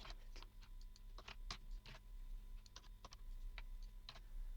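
Keystrokes tapping on a computer keyboard in a code editor, arriving in short irregular bursts of crisp clicks, close and steady, with no voices.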